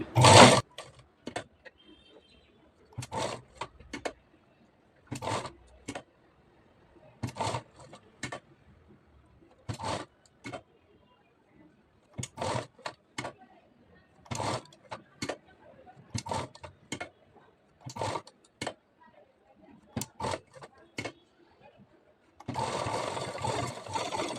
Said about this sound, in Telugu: అక్కడి నుంచే మనం స్టార్ట్ చేసుకొని కుట్టుకోవాలి